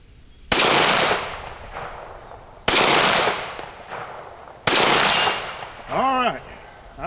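Three loud outdoor shots from a Springfield Echelon pistol, each with a long echoing decay across the range, aimed at a steel plate 80 yards away, then a short burst of nearby speech.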